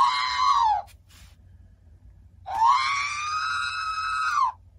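An R2-D2 robot replica makes two electronic emotional noises, a short whistling wail followed after a pause by a longer, sustained warbling tone that sweeps down at the end, alone in a quiet room.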